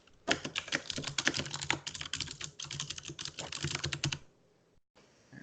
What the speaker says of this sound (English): Like I can hear you typing quickly